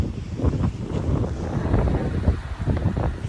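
Strong sea wind gusts across the microphone at Kenting beach in southern Taiwan, a loud, rumbling, buffeting roar with possible surf beneath it and no clear speech.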